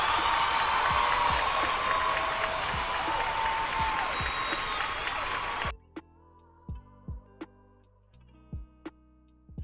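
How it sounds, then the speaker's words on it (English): Applause sound effect from a crowd, a dense steady clapping that runs for several seconds and then cuts off abruptly, followed by a few sparse ticking clicks. "I think they deserve a round of applause"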